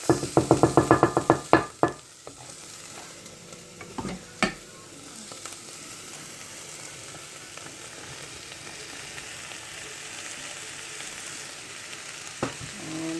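Minced meat for spaghetti bolognese drops into a hot pot with a burst of loud sizzling and stirring knocks, settling into a steady low frying hiss with occasional clacks of the spoon.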